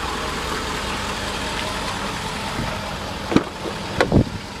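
A pickup truck on chrome wheels with all-terrain tires idles with a steady, even engine rumble close by, followed near the end by a few short knocks and clunks.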